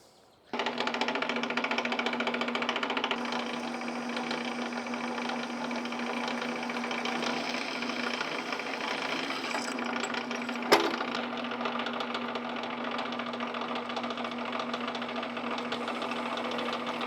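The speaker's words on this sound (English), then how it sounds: "cut a little slit in here and then weld this together" A pipe being welded together gives a steady, close, loud electric buzz and crackle that starts abruptly and holds evenly, with one brief sharp snap partway through.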